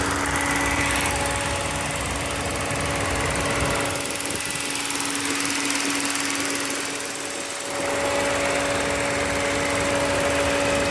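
A 2015 Ford Fiesta's 1.6-liter engine runs with a continuous, fairly loud droning hum that dips briefly midway before returning to a steady level.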